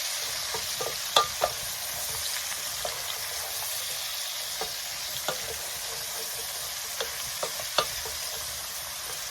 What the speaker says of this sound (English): We're gonna saute this so it's nice and translucent.